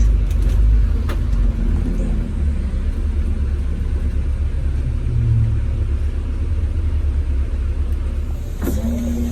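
A London bus heard from inside while riding toward Westminster Bridge, a low continuous engine and road rumble with a brief higher tonal whine near the end, no speech.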